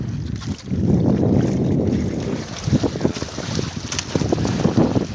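Strong wind buffets the microphone in heavy gusts, with water slapping and splashing around a boat underneath.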